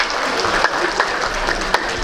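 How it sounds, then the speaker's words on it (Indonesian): Applause for a graduating nursing class at a capping ceremony, a short burst of crowd clapping with a few sharper claps standing out over a steady low hum. "Boleh tepuk tangan sekali lagi untuk angkatan 29."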